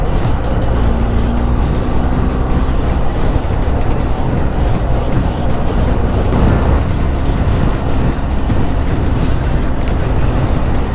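Heavy highway traffic near Santo Tomas, Batangas, heard from inside a moving vehicle on a morning ride: loud, unbroken road and engine roar with tire hiss and a passing vehicle swelling briefly partway through.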